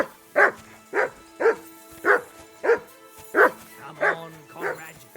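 A dog barks repeatedly in the video game Kingdom Come: Deliverance II, eight loud, evenly spaced barks close by, with no talk over them.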